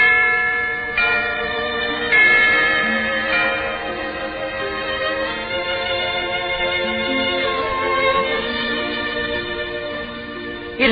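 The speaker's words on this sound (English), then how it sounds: "Sound the bell." A large old bell rings out in repeated struck peals, each strike blooming into rich, long-sustaining overtones that overlap and resonate continuously without any voices.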